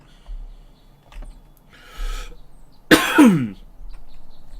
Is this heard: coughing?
yes